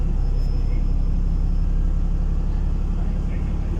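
Steady road traffic rumbles at a bus stop, a constant low engine drone from cars and buses that stays loud and unbroken throughout.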